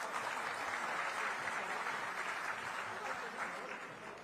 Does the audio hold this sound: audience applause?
yes